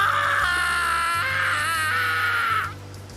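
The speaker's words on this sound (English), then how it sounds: "Dang, that's a long scream." A long, high, sustained scream from the Higurashi: When They Cry video game holds for nearly three seconds with a wavering pitch over a low droning background tone, then cuts off sharply.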